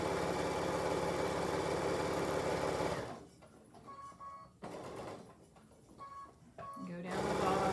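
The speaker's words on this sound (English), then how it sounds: "So I just made a straight stitch all across from the top, and then we're going to go down one side." A sewing machine runs a straight stitch through fabric for a bird bun used by animal rescues, a steady close whirring hum that stops abruptly, followed by quieter handling noises and a brief restart.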